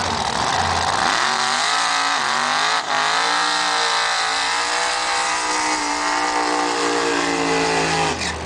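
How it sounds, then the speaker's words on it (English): Loud, sustained engine roar of a drag racing car with torque converter and Powerglide transmission doing a burnout at Ruapuna in 2008, revving steadily with tire squeal for several seconds, close and continuous. "Sounding burn out there. Roger's always good on the burn out."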